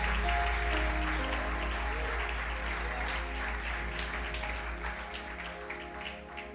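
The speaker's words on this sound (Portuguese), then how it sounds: "Você pode aplaudir a Jesus?" Church congregation applauding steadily, a dense continuous wash of clapping that holds at a fairly even level and eases slightly toward the end, with faint tonal hum underneath.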